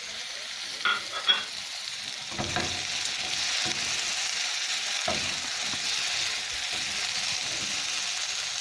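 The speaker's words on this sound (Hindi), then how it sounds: "तमाम वेजिटेबल्स को बहुत अच्छी तरह मिक्स कर दिया है।" Chopped vegetables and finely cut fresh red chilli with seeds are stirred in a pan over a medium flame, a steady broadband sizzle with scraping spoon strokes and a few sharper knocks, no talking.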